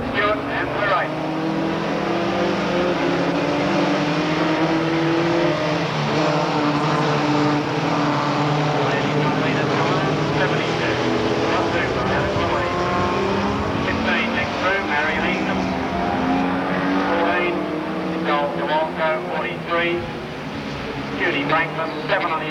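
Standard saloon race cars racing at Drouin Speedway in a 1994 ladies state title event, a continuous loud engine drone with shifting tones as the pack circles, mixed with a commentator's voice over the public address.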